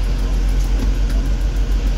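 A car engine idling steadily, close to the microphone and loud, with an even low rumble that runs throughout and no voices.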